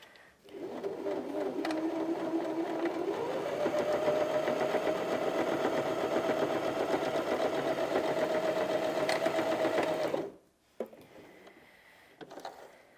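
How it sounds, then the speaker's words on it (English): A Janome HD2200 sewing machine stitches through four folded layers of fabric in one continuous, steady run of whirring mechanical hum for about ten seconds, its pitch rising slightly as it speeds up, then stops abruptly. "So let's double that over. So we're sewing through 4 layers now."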